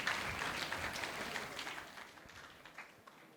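A crowd at a church consecration festival in Ramireddipalli, Vijayawada, applauds the police. The clapping sounds faint and distant, a steady wash that slowly fades away.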